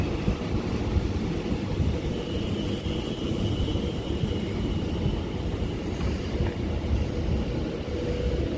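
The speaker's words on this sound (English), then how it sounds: "This train actually just stopping here because of the red signal." Class 390 Pendolino, unit 390 002, passing through Liverpool South Parkway station on the West Coast Main Line Liverpool branch, a steady loud rumbling roar of wheels and motors that holds throughout with a faint high whine.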